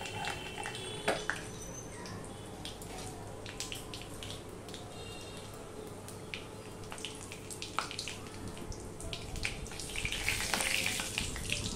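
Cumin seeds and a halved dried chilli crackle and sizzle in hot oil, a soft steady frying hiss with scattered pops, faint and close.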